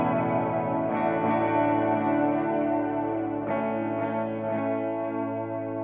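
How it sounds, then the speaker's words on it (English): Tape-style delay from the RE-1 Space Echo iPad app, with a distorted, chorused sustained tone whose repeats stack and echo in evenly spaced pulses, fairly loud and alone without any voice. "that would create an echo effect, the repeating echo effect that you hear in delay"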